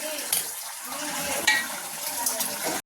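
Onion sizzles and fries steadily in a hot kadhai, a continuous bright crackling hiss with a few small stirring clinks, ending abruptly.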